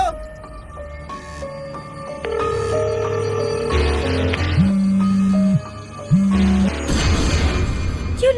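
A telephone rings indoors during a Bangla drama scene: two buzzing ring bursts stand out over a backdrop of tonal, music-like sounds and occasional clatter.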